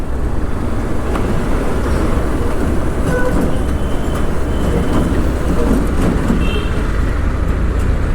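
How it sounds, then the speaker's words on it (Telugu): A Kolkata metro train rolls past close by, a loud continuous rumble and rattle of rail cars with faint clicks, steady throughout with no voices. "అదిగోంది లెఫ్ట్లో మెట్రో వెళ్తుంది."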